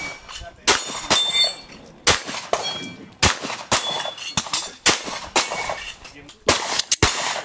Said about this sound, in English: SIG 365. Beautiful gun.